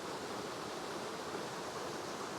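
Water runs in a steady, unbroken rush through the lush, wet rainforest at Weeping Rock in Leura, Blue Mountains, at moderate volume and with no other sounds.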